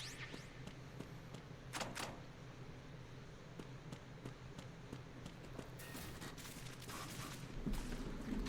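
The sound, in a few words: gunfire outside in video game Metal Gear Solid 2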